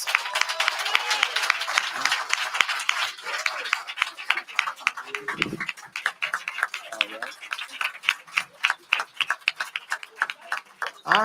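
An audience at a ward council candidate forum applauds, a thin patter that builds into rhythmic, sustained clapping from a modest crowd, growing punchier toward the end.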